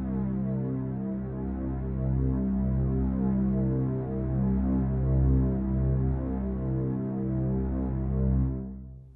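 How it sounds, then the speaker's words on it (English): A low woodwind orchestra holds one sinister, simple sustained note, dark and steady with slight swells in level, played alone at moderate volume before it fades out at the end. "I just wanted to extend this low wind orc to keep a sinister, simple note as Piccolo monologues to himself."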